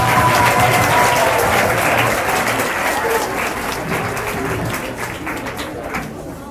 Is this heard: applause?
yes